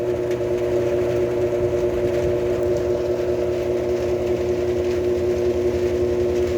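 A GE washing machine drum spinning through its spin cycle as speed climbs, a steady loud motor hum with a strong tonal whine and constant rumble, unbroken and with no talking.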